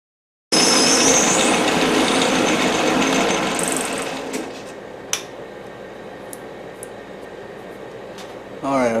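A machine turns down a plastic pantograph part, giving a loud, steady whirring hum that gradually eases off, followed by a few sharp clicks and taps in quieter surroundings.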